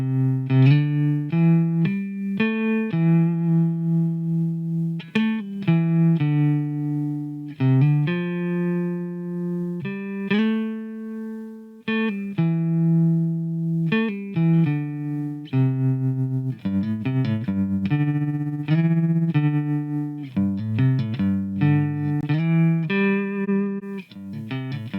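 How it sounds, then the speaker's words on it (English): Waves Kaleidoscopes modulation plugin's tremolo section, modeled on a 1963 Vibrolux amp, pulses over sustained, changing harmonic chords in a steady, loud musical passage with fluttering amplitude throughout and no talking. "these are what influenced the tremolo section of Kaleidoscopes. So let's give it a listen now."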